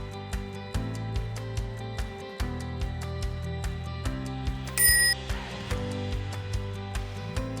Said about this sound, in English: Install the bell.